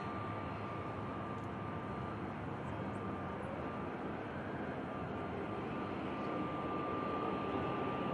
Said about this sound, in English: Another lovely coloured aircraft on the way out.